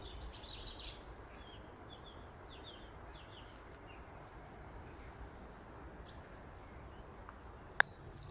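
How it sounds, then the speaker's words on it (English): Faint bird chirps and calls scattered over a steady rushing background of the River Finn flowing, with one sharp click near the end. "you can hear loads of birds cheeping"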